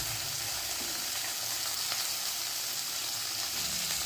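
Small chuno fish fry in hot oil in a wok while being turned, producing a dense, constant sizzle that stays even and close for the whole stretch, with no speech.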